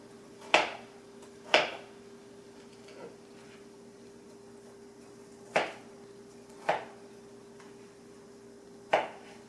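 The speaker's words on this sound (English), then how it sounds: "you're going to cut up some more strawberries. And this time I'm going to cut them up a little smaller." Knife cutting strawberries into small pieces on a board, six sharp isolated chops spaced irregularly over several seconds against a quiet background hum.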